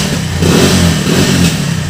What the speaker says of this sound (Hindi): अभी हम इसमें किक लगाएंगे और स्टार्ट करेंगे